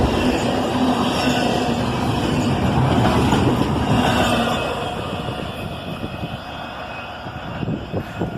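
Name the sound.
CSX intermodal freight train passing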